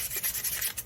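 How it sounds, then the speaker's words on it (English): Hand sanding on a Suzuki Samurai part, a quick series of close, scratchy back-and-forth rubbing strokes in an uneven rhythm. "I'm just kind of sanding this so I can clean it"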